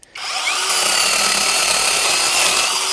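An Avhrit cordless mini chainsaw cuts through wet wood. It starts with a click, then a loud, steady, high buzzing whine as the chain bites and runs through the cut close to the microphone.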